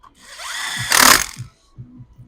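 A power driver runs a single short burst of about half a second, driving self-tapping screws into the cover of a STIHL multi-tool during a full service. Light clicks and handling knocks follow in the quiet afterwards.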